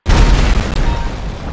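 Helicopter explosion in a video game: one loud, close boom bursts in abruptly, then rumbles and decays over about a second and a half.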